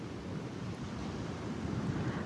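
Sea waves wash in a steady broadband rush with low wind-like rumble, continuous and fairly soft, with no voices.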